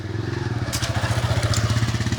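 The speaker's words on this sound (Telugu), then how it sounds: "ఒక బైక్ వస్తుంది" A motorcycle passes through a shut-down market street, its engine thumping in a fast, even rhythm, loud and close, swelling slightly as it goes by.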